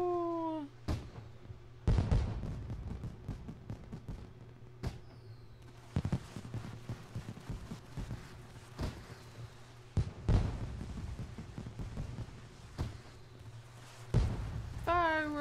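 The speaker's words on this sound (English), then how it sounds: "Let's see the fireworks. We're missing the fireworks." Fireworks bursting outdoors at night, a handful of sharp separate bangs every few seconds over a low steady hum, with a voice briefly audible.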